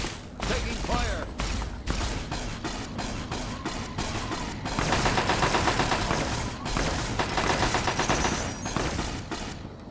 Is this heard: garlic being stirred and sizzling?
no